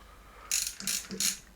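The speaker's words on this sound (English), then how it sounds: "what makes it my most used ratchet, is the fact that it's 3/8 drive" A KATSU 3/8-inch drive ratchet gives three quick, crisp bursts of clicking, close up in a quiet room.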